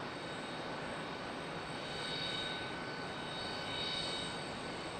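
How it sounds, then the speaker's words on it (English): An airliner landing at Charlotte Douglas International Airport, a steady broadband roar of jet engines heard from a distance, swelling slightly over several seconds, with no talk. "That looked like a very stiff and uncomfortable touchdown."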